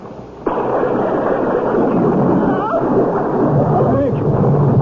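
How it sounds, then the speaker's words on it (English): A sudden loud thunderous crack from a lightning strike in a radio drama set at a flimsy tent camp, followed by a sustained heavy rumble and roar that fills the rest of the moment. "Something struck like an enormous bolt of lightning."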